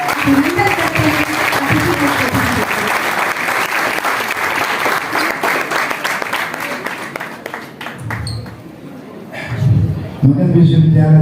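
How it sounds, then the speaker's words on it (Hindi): Audience applause at a Magadh University National Service Scheme Kargil Vijay Diwas ceremony in Bodh Gaya, welcoming a guest; steady loud clapping for about nine seconds that thins out near the end, with voices over the close. "तालियों के साथ ब्रजेश सर का हम लोग स्वागत अभिनंदन करते हैं।"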